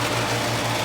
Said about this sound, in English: There's the heat pump working.